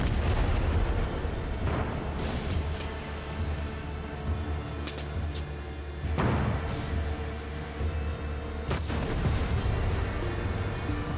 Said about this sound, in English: Check out the fireworks. It's beautiful, isn't it?